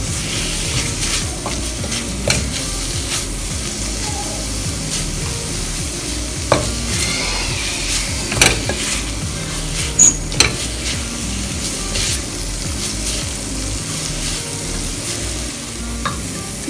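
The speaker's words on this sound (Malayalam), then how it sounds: "ഇതുവരെ ഇളക്കി കൊടുക്കാം." Masala for a Kerala-style squid roast sizzles steadily in a pan while a spoon stirs it, scraping and clicking against the metal now and then, close and continuous with no talking.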